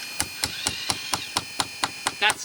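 Sharp, regular blows from a small RC machine's hydraulic hammer strike concrete, about ten evenly spaced impacts ringing out close by.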